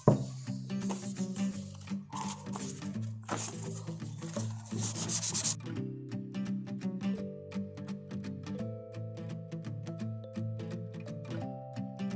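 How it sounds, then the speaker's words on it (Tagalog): A painted surface with scratch repairs is sanded by hand with 1000 grit sandpaper before repainting in matt grey: steady, close rubbing strokes in an even rhythm, with no voices. "So ipang pipinish natin dyan para kuminis is yung 1000 na grid"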